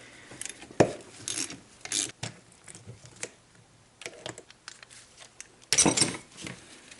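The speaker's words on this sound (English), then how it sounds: "Just go ahead and start cranking it down on the forcing screw." A forcing screw on a bearing puller is cranked down while rebuilding a GM 10-bolt rear end, heard as close, intermittent metallic scraping and ratcheting clicks with short gaps, ending in a louder grinding burst.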